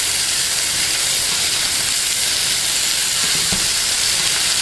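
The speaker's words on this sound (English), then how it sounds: "now I'm going to go ahead and turn it. Just like so, nice and crispy." Stuffed chicken with asparagus and goat cheese, just turned in a hot pan, sears with a loud, dense, continuous hiss and sizzle that stays steady throughout.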